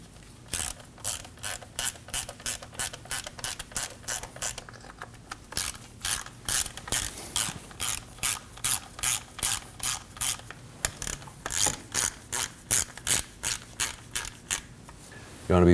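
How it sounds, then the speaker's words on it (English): Ratchet wrench clicking in quick repeated bursts while snugging down three bolts during neutral safety switch replacement on a 2003-2006 Subaru Baja, the close, bright pawl clicks coming in steady strokes with short pauses between them. "Now we can snug down the 3 bolts."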